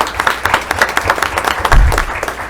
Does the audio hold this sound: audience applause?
yes